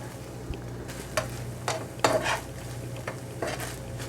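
Beef birria meat is seared in a little oil in a pan, with a low steady sizzle under scattered scrapes and clinks of a utensil stirring against the pan.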